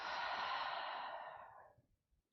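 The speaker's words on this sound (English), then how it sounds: "And a breath out." A single long, soft exhale through the mouth during a yoga session, breathy and close, fading out over about two seconds.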